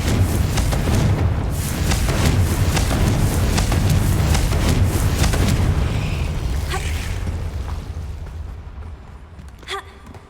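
The Confringo spell explodes in the game Hogwarts Legacy, a heavy, rumbling blast with a deep low roar that sustains for several seconds, then slowly fades, with a few sharp crackles near the end.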